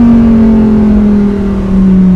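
A Lamborghini STO's engine revs gently in a tunnel, a steady, loud, close drone that holds its pitch with slight sag mid-way and echoing resonance around it.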